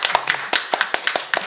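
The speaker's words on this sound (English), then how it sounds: "Round of applause." A short burst of applause from a conference audience, a handful of separate claps spaced unevenly, fairly close and with no voices.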